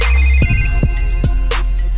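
A telephone ringtone chirps in a song, repeated electronic rings in a steady rhythm over the music with no singing.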